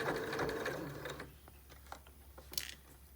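Sewing machine stitching through thick layers of fabric while sewing a face mask, a steady motor hum up close in the first second or so, then fading to quieter intermittent clicks and taps.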